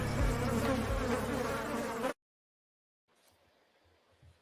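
A loud, close buzzing of a stinging insect fills the first two seconds, then cuts off abruptly into silence before a faint, low hum returns.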